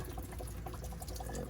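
A can of Coors Light beer is poured into a smoker holding baby back ribs, a steady soft gurgling stream that is faint and close.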